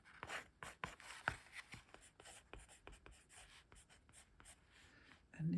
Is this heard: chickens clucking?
no